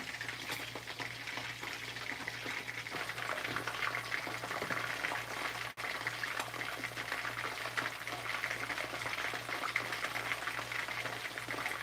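Pickerel fish frying in oil with garlic, a faint, continuous bubbling sizzle with a steady low hum underneath.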